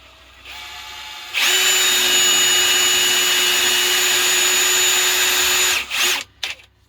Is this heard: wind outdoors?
no